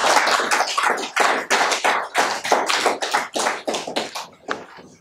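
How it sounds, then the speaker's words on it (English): An audience applauds a professor at an inaugural academic lecture, a dense run of hand claps in rhythmic, surging bursts that hold steady before fading slightly at the end. "A clap for him."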